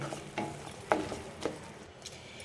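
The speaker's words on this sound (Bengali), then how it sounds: "এবার এটিকেও ভালো করে মিক্সড করে নিতে হবে।" Grated carrot being stirred together with khoa kheer in a pan, a few distinct scraping and clicking strokes of the spoon at uneven intervals over a low sizzle, close and fairly quiet, with no speech.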